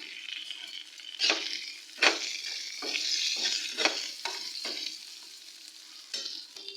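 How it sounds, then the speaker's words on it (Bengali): Chopped onion, ginger and garlic frying in oil while a spoon stirs them, a close sizzle interrupted by repeated scraping strokes every second or so, with no talking. "আদা রসুন কুচি আর পেঁয়াজটাকেও খুব ভালো করে ফ্রাই করে নিয়েছি"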